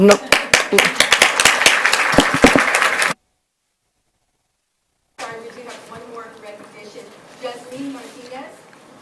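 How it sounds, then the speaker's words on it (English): Audience applause fills a school board meeting hall for about three seconds, a dense burst of clapping. After a short silence, a voice speaks over quiet room noise. "let's give Ms. Griffith a round of applause"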